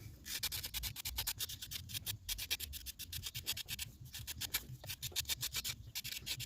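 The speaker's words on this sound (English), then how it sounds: "I'm just going to scrape back." A tool scrapes back the rim of a clay pinch pot in quick repeated strokes, close and quiet rasping bursts in an uneven rhythm with brief pauses.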